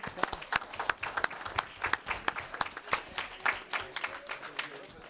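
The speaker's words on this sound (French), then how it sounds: "Alors, on les applaudit." Sparse, uneven hand clapping from a small audience at a city council meeting, loud sharp claps in a ragged rhythm that builds and continues throughout with brief murmured voices under it.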